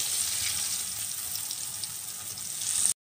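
Chicken popcorn pieces in KFC-style coating fry in hot oil, giving a steady, close hiss of sizzling that holds evenly for about three seconds before stopping abruptly.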